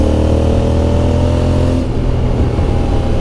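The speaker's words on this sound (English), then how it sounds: "That Black Widow exhaust I got with a carbon tip, it sings a lovely tune through here." A motorcycle fitted with a Black Widow exhaust with a carbon tip, its engine droning loud and steady on the road before the tone drops partway through as it eases off.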